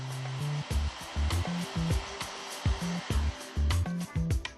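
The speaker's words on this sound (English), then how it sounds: "move the hot air blower in the direction of the cable. Melt the shrink sleeve." Hot air blower heating a solder sleeve and shrink sleeve on a vehicle wiring harness repair, a steady close airflow roar with a rhythmic pulsing as the blower is moved back and forth.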